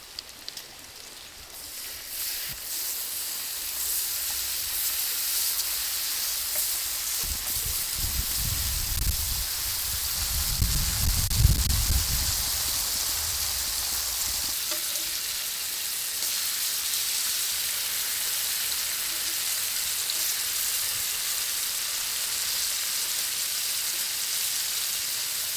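Bacon and potatoes fry on a 22-inch Solo Stove Steelfire travel griddle at an outdoor creekside breakfast, giving a steady close, even sizzle. A deeper low rumble swells in the middle, and no one speaks.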